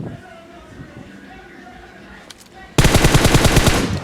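Rapid automatic gunfire from the video game BGMI bursts in abruptly partway through, a loud sustained volley of fast repeated shots knocking down an enemy, following a quieter stretch of faint game ambience.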